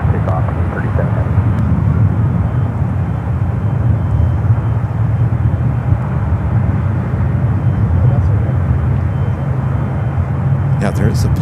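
A Boeing 777 taking off from runway 28 left at San Francisco International Airport: a steady, broad jet engine roar heard from a distance, holding constant throughout with no clear build or fade.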